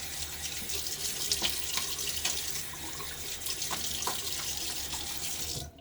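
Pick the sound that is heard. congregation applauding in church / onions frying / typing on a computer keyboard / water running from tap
water running from tap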